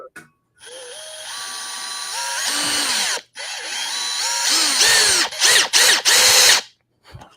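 Makita 40V cordless drill driving a half-inch lag screw into wood, a loud motor whine that rises and bogs under load, pauses briefly, then restarts in short straining bursts before stopping.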